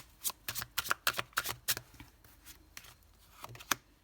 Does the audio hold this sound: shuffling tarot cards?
yes